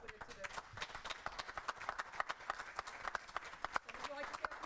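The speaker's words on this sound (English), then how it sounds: "So I just wanted to give you a round of applause" A room at a school board of education meeting breaks into applause, steady clapping from many people at moderate distance that lasts throughout, with faint voices underneath.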